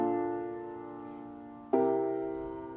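Sustained piano seventh chords from a software plugin, one chord ringing and fading before a second is struck near the end and rings out, soft and clear with no speech.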